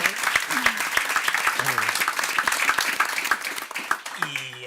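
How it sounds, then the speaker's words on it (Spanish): Audience applause after a talk at a forum on nationalism, a dense steady wash of clapping that stays even throughout, with voices speaking over it at moments. "Pues yo creo que, Javier, primero que aplaudimos por tu intervención."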